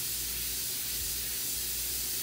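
An airbrush spraying orange paint onto a t-shirt while painting a lion's fur, a close, continuous airy hiss that holds steady from start to finish, with no talking.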